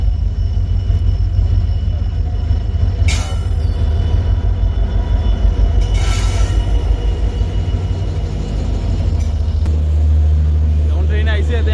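A passenger train running from Agartala to SMVT Bengaluru gives a loud, steady low rumble throughout, with a few brief hissing bursts rising over it.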